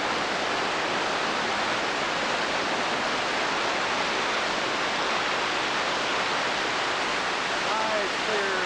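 Broadband rushing water of a clear mountain stream near Silverton, Colorado, steady and loud throughout with no voices over it.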